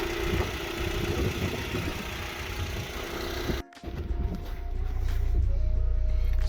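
A Honda Civic engine with a blown head gasket runs steadily at idle, a continuous mid-pitched hum with a brief dropout partway through before it resumes, louder and steadier.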